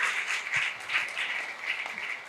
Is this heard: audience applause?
yes